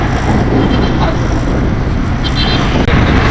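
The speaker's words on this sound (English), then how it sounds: "So finally, I'm get on in the auto rickshaw, as you can see. Now I'm going back, and you know the auto rickshaw full of with passengers." An auto rickshaw packed with passengers drives along, its engine a loud, constant rumbling drone close by with road and wind noise and no clear pauses.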